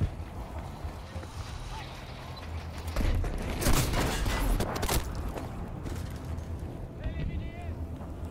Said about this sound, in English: Chucking a bomb.